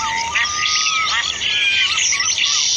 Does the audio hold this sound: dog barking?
no